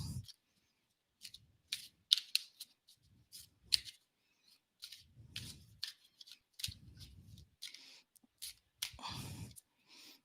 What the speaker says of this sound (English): they're making me shuffle these a lot, Carrie.